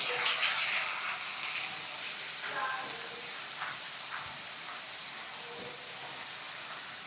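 Ground masala paste sizzles steadily in four spoons of hot oil for a Marathi matki dal amti, a continuous bright hiss of frying with a few soft clatters from stirring, close and fairly loud, no voices.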